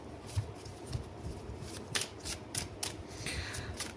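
Tarot cards are shuffled by hand, giving a series of quick crisp riffling and slapping bursts, close and fairly quiet, with no talking.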